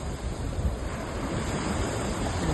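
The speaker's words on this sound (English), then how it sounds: "Look at the ocean." Ocean waves wash onto a beach at a nature resort in a steady, broadband rush, with wind buffeting the microphone throughout.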